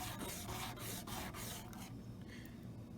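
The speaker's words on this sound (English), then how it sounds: "Just flattening up the back and the front to get it ready for the inlay." Rasping, rubbing strokes of a wooden ukulele back and front being flattened for inlay work, a steady close scraping texture with rhythmic strokes that lighten toward the end.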